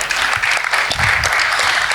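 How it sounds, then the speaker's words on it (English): Audience applause at a launch event, a brief burst of dense, fairly close clapping that carries loud through the whole moment. "Give yourselves a round of applause."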